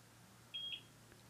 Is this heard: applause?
no